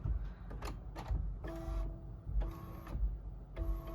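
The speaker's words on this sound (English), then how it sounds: "I need to just keep printing and printing and printing." A printer in a craft studio works slowly, with mechanical clicks and short whirring bursts in an uneven rhythm, including three sustained tonal carriage runs, close and with no talk.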